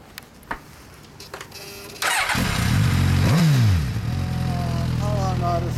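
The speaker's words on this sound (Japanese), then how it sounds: "ほんならエンジンを聞かせてもらえますか？" A 2016 Suzuki GSX-S1000F ABS motorcycle with a stock engine starts up after a few quiet clicks, then settles into a loud, steady idle close by with a quick rev partway through.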